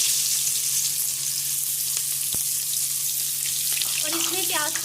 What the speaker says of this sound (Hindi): और इसमें प्याज को ब्राउन कर लीजिए।